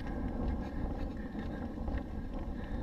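Steady wind buffeting the microphone during a 14-mile outdoor run, a constant low rumbling roar with slight gusting fluctuations, close and fairly loud with no voices.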